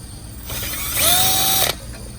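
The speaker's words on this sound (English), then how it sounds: "We're going to drill straight through." A power drill with a 5/16 bit whines at high speed for about a second through a plastic coolant reservoir tank, a rising mechanical tone that cuts off abruptly, with faint background noise around it.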